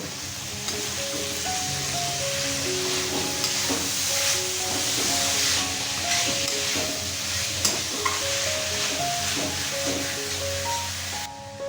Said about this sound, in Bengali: দিয়ে দেব মোচা। সবকিছুকে একসাথে ভালোভাবে মিশিয়ে নেব।